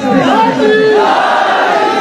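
A large crowd at a religious gathering shouts a slogan in unison, a loud, sustained roar of many voices rising and holding for about two seconds.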